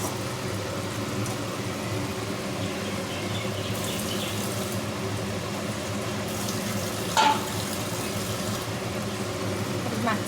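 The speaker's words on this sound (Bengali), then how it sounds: "মাছটার মধ্যে একটুখানি জল দেবো" Water poured into a cooking pot of fish on the stove, a continuous watery pouring and simmering wash that stays fairly even throughout, with a brief clink partway through.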